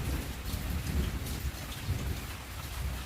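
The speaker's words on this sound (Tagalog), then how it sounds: "Tapos ngayon biglang ulan." Sudden heavy rain pours steadily on a surface, a dense close hiss with low rumbling swells like distant thunder, no voices.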